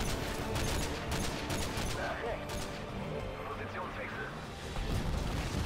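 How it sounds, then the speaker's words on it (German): Rockets fly in and explode in Call of Duty: Modern Warfare 2, a dense barrage of booms and crashing blasts over a continuous rumble, with someone talking throughout. "Fliegen auch schön die ganzen Raketen rein."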